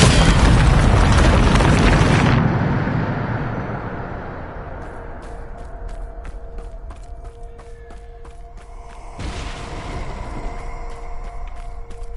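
A Depulsor spell cast in Hogwarts Legacy on PlayStation 5 lets out a loud, roaring burst that fades into a low rumble with faint ringing tones and ticks, then a second short burst hits.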